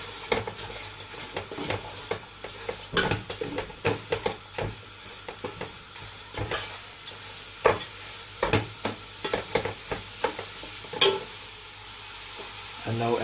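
Kheema mince with garam masala and salt sizzles in a pan while a spoon stirs it, giving repeated scraping knocks over a steady frying hiss, close and moderately loud.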